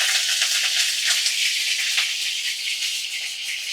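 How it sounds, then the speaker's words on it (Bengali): A catla fish head fries in mustard oil over a medium flame, giving a steady, close, loud sizzle and hiss with crackling bursts and no talking. "আমি মাছের মাথা ভেজে নিচ্ছি"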